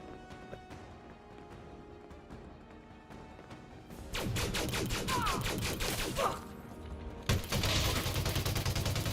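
Ship weapons firing in the Elite Dangerous space game, starting as sparse sharp shots, then turning into loud rapid bursts of fire with crashing impacts.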